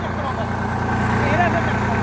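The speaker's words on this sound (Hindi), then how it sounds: "देख सकते हैं पहले के हाई में चलने वाला ट्रैक्टर" A Sonalika DI-5 tractor engine pulling in first gear, high range, at about 1300 rpm out in a field, making a steady, loud low drone with voices talking over it.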